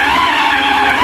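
A food processor running hard on pounded yam, Nigerian style, making a loud, steady whirring grind with a sustained strained motor tone, close and uninterrupted.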